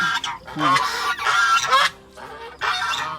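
Geese honk loudly and repeatedly at close range, a rapid string of harsh calls with a short pause before a final honk.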